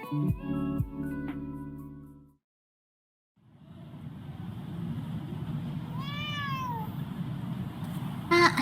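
Several loud meows up front from a cat in the video game Under Maintenance, then silence, then a steady rumbling background with a single rising-falling meow near the end.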